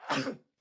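A single short sneeze or throat-clearing burst from a person during a sports talk podcast, close and loud, followed by a faint brief sound.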